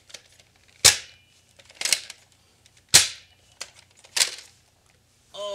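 A toy dart gun fires at toy bugs on a wall, giving several sharp, close snapping shots spaced irregularly about a second apart, with quiet gaps between them.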